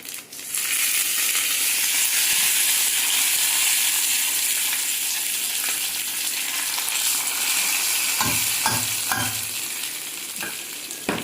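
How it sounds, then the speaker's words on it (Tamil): Curry leaves sizzle in hot oil with mustard seeds and fenugreek for plantain stem sambar, a loud, steady frying hiss, and a few scraping stirs clatter near the end. "கடுகு வெந்தயம் நல்லா பொரிஞ்சிச்சுங்க இப்போ கருவேப்பிலை போடுறேன்"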